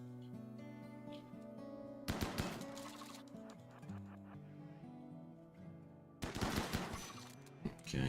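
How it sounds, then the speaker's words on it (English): Turrets in RimWorld Odyssey firing two distinct rapid bursts, each a sharp chattering volley lasting about a second and a half, over a steady background music bed. "I hear turrets firing."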